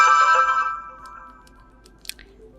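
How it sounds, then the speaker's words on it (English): A pre-installed nature ringtone plays on an OPPO Reno15 FS phone: bright layered chime tones ring loudly for under a second, then fade into near silence broken by a few faint clicks. "All you have to do in order to listen how the particular ringtone sounds is to simply tap on it."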